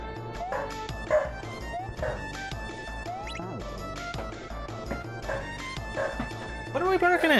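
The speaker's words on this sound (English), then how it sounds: "What are we barking at?" A small dog barks and yips in short, scattered bursts at a low level over a steady tonal background, with a louder run of yips at the end.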